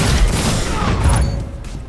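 A hand cannon fires in a first-person shooter, a loud booming volley filling the whole short moment, dense and close with a decaying tail.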